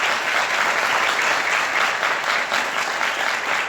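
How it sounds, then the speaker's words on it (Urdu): A church congregation claps together in sustained, dense applause, loud and close, with no break for the full length. "یہ یسوع کے لیے کافی نہیں تالیاں جس طرح آپ نے بجائی، مسیح کے لیے بجانا۔"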